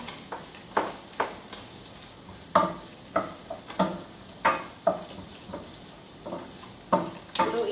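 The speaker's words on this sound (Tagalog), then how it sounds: "Continue stirring the onion, garlic, carrots, and capsicum." Onion, garlic, carrots and capsicum sizzle in a pan while a utensil stirs them, with regular scraping strokes roughly every half second over a steady frying hiss.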